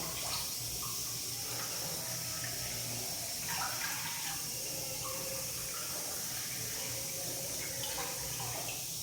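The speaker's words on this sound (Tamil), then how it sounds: "அதுக்கு தண்ணி எல்லாம் ஒரு மூணு கப்பு தண்ணி நம்ம விட்டுப்போம்" Water is poured into flour to make batter, a soft, steady trickling stream that runs continuously at a low level with faint background noise.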